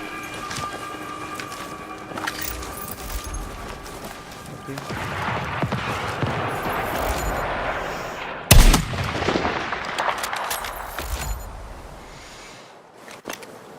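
Gunfire crackles in the shooter game Battlefield 6, sustained rattling shots and booms under an urgent combat din, with one sharp loud blast midway and voices shouting over the fighting.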